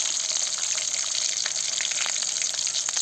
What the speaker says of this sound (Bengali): তেলটা হিট হচ্ছে কিন্তু তারপরে দেখুন আমি পেঁয়াজগুলো দিয়ে দিলাম